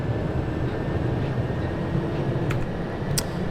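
A Central Line 1992 Stock train in Open BVE grinds along the rails with a steady, loud rumble of wheels and a thin flange squeal held above it, plus a couple of brief high screeches near the end.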